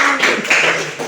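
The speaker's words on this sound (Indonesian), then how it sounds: "Berikan tepuk tangan." A group of people in a classroom clap their hands in a brief, close burst of overlapping claps lasting about a second.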